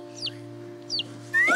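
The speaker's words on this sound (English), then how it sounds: "Maybe it's another little chicken hatchling around here somewhere." Two brief high chirps from a chicken hatchling spaced apart, followed by a louder rising, squeaky call, over a steady low hum.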